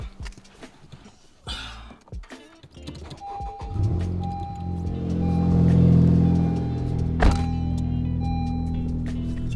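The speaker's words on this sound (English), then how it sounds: "Let the car warm up" A 2017 Honda Civic Type R engine starts after some clunks and settles into a steady warm idle with a faint whine, close and continuous, with one sharp knock partway through.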